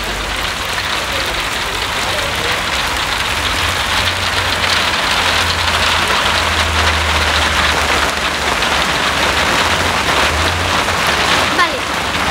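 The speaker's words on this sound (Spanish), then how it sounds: "Uy, que se ha puesto a llover, chica." Rain falls steadily outdoors in a constant dense patter on surfaces. A low engine hum runs underneath for part of the time.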